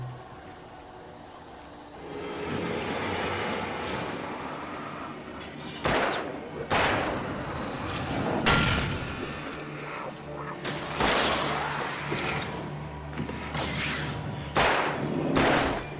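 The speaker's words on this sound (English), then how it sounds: "I think that was just a revolver." Revolver gunfire in the video game Alan Wake, a string of sharp shots spaced irregularly over a steady rumbling game background, several loud reports close together near the middle and end.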